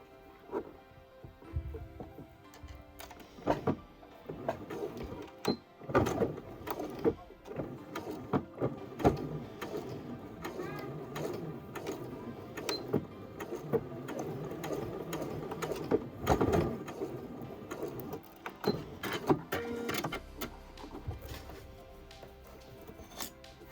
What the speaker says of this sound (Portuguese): vou cozer só no tecido exterior